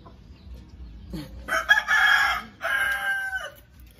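A rooster crows loudly and close, one long drawn-out call in two parts, with faint clucking from other chickens.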